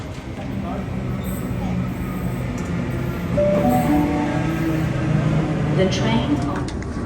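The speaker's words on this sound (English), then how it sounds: "The train." A train rolls along the line to North Sydney across the Harbour Bridge, a steady rumbling of wheels and carriage with a few squeals and tones rising over it, as people talk faintly nearby.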